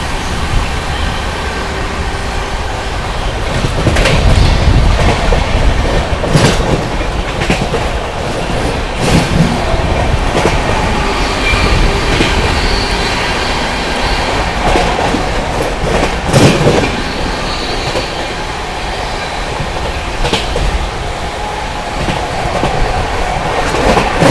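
Barauni–New Delhi Clone Express passing through Etawah Junction in India: a loud, continuous rumble of rolling wagons with repeated clickety-clack wheel thumps over rail joints, steady throughout with no talking.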